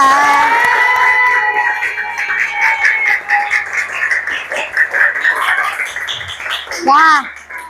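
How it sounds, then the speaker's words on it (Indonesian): Children in a classroom clapping and cheering, loud excited shouts and whoops over scattered applause, with voices rising and falling and a high shriek near the end. "Oke, tepuk tangan buat Quinza."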